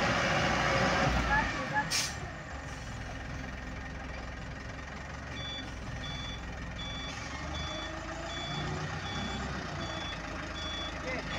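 A loaded truck at a Filipino fill site backs up, its reversing alarm pulsing steadily in regular beeps over a low idling diesel rumble and ambient noise, with a sharp noise burst near the start.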